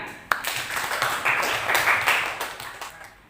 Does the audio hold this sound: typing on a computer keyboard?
no